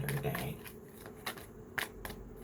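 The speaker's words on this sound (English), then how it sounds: "One more shuffle." Cards are shuffled in a series of soft riffling bursts, fairly quiet, while someone speaks at moments during the shuffle.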